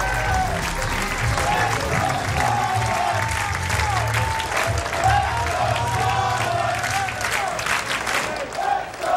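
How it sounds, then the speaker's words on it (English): Big crowd at a 2009 professional bowling championship applauding and cheering without a break, a loud, dense roar that holds steady the whole time. "And the crowd is into it because that man is bowling."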